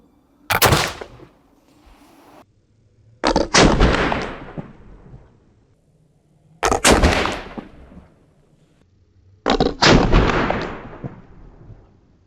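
Four loud gunshots fired at a target outdoors, each a sharp close blast with a rolling echo tail, spaced about three seconds apart, the second and fourth doubled by a quick follow-up shot.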